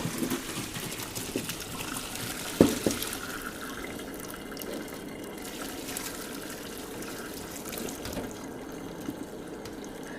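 Pickling cucumbers and their liquid poured into a colander in a kitchen sink, a continuous trickling, splashing flow with a sharp clunk early on, moderately close and steady throughout.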